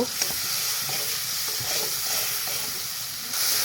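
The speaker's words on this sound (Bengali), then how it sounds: "এটা ভালোভাবে কষে নেব।" Potatoes and soaked spices of cumin and coriander fry in a pan for a vegetarian aloo dum, with a continuous close sizzle broken by the scrape and clatter of stirring.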